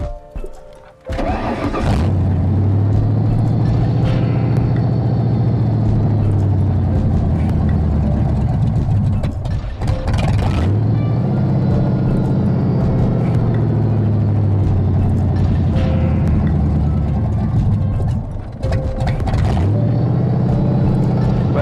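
Car engine running continuously with a newly installed carburetor, revved by repeated gas pedal presses to keep it from dying; loud, close, rising and falling in surges with brief dips.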